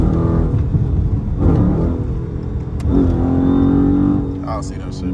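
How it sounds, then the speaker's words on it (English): Dodge Charger Scat Pack fitted with a Pedal Commander, its engine revving with a deep, loud rumble that swells and holds, heard from nearby with someone talking over it. "y'all can hear the engine."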